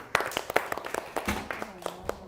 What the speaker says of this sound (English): Round of applause for the volunteers, please.